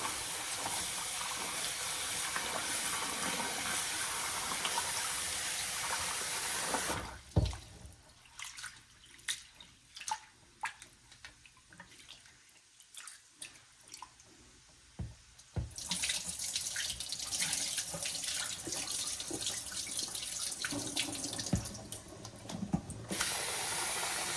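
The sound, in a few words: tap water running while washing rice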